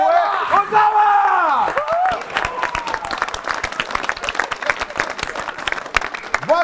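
A studio audience at a comedy talk show applauds for actress Yumna Zaidi, the dense clapping rising over a voice and music at the start, then continuing steadily with scattered cheers.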